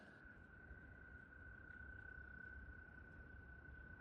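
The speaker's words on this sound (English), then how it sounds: "frogs, toads, somebody's trilling." Frogs and toads trill by a lake on a hike, a faint, steady high-pitched drone that runs unbroken under soft outdoor hiss with no voices.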